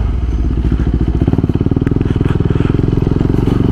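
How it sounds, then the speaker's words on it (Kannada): A KTM 390 Adventure motorcycle fitted with a Red Rooster exhaust thumps out a fast, even train of loud, close exhaust pulses while riding, with no one talking. "ಕೇಳಿಸ್ತಾ ಇದೆಯಾ ರೆಡ್ ರೂಸ್ಟರ್ ಎಕ್ಸಾಸ್ಟ್ ಸೌಂಡು?"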